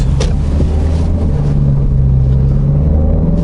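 A Peugeot 508 turbo engine in sport mode drones loud and close with a steady low rumble, its pitch rising and shifting as the revs climb and the gearbox changes gear, with no voices over it.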